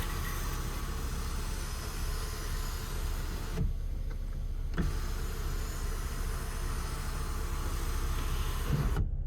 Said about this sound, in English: So it's a sliding, actually that flipped up, but I'll close that and then slide it back.